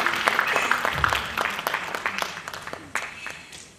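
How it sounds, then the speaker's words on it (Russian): Audience applause at a belly dance competition show, starting as fairly dense clapping and thinning out into scattered individual claps that fade toward the end. "Аплодисменты."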